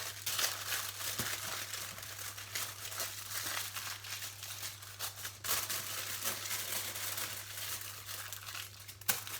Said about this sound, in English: Again, same way, get your foil, go all the way around the outside.